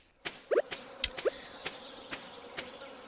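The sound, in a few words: buzzing insects like bees or flies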